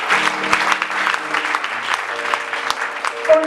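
A church congregation bursts into steady clapping applause, close and fairly loud throughout, with a few brief vocal sounds mixed into the crowd noise.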